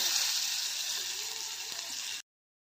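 Potato and onion with ginger and garlic sautéing in butter in a pan for broccoli soup, a bright, steady hiss close up that cuts off abruptly.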